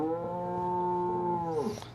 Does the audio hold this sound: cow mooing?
yes